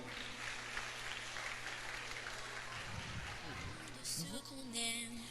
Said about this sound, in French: Je vous demande tonnerre d'applaudissements à nouveau